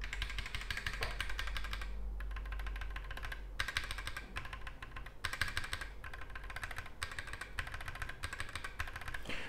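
Steady, rapid clacking of mechanical keyboard switches on a split keyboard being typed on, continuous and close, with a low hum underneath and no voices.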